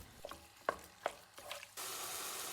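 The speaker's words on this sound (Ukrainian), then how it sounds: "Смажимо на великому вогні, перемішуючи близько 10-12 хвилин." Chicken fillet with spices and crushed garlic fries over high heat while a utensil stirs and scrapes the pan in several short strokes, then a loud, steady sizzle takes over near the end.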